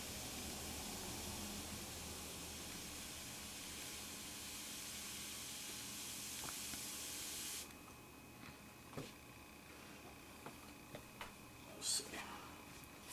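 A rag pressed on a dented gun stock gives a steady steam hiss for several seconds, then it drops away, leaving quieter intermittent hissing and soft handling noises.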